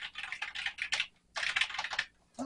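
A generic AT style computer keyboard, the FK6000, is typed on in quick bursts of clicky key presses separated by short pauses, close and fairly quiet with no talking.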